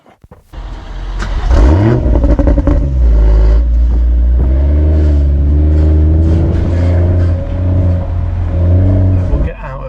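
BMW car engine starts, revs loudly and pulls away close by, its engine note rising and falling steadily through the drive while a voice talks over it.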